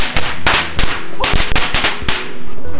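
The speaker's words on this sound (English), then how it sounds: "about to blow up some firecrackers" A string of loud firecrackers pops and cracks close by in quick, irregular bursts, each bang sharp and echoing.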